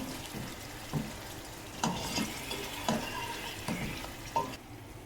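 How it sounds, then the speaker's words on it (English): Mutton frying in oil in a pot, cooked until the oil separates: a steady close sizzle with periodic stirring scrapes and clanks of a utensil against the pot roughly every second, no talking. "Cook the mutton until the oil separates."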